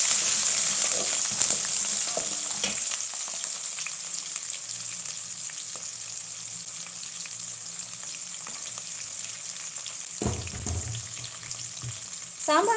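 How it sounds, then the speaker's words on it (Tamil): A handful of small shallots sizzles and fries in a pan while cooking bisibelebath, a steady close crackle with a short stirring clatter near the end. "இப்போ சின்ன வெங்காயம் ஒரு கைப்பிடி அளவுக்கு சேர்த்து வதக்கி விட்டுடலாம்."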